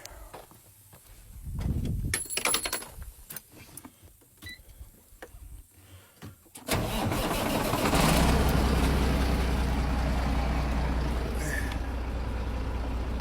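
A Cat BXS diesel truck engine turns over and catches at about seven seconds, then settles into a steady, loud, rumbling idle; clanks and shuffling precede the start.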